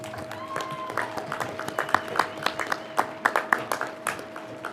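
Audience clapping at a 2021 school graduation ceremony, a fairly small crowd giving steady, moderately loud applause with distinct individual claps and a faint hum underneath.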